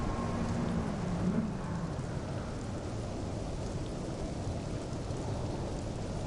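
Simulated rain in a Gran Turismo Sport race replay, a dense, steady hiss of downpour on surfaces with a faint low rumble, continuous and fairly loud without talk.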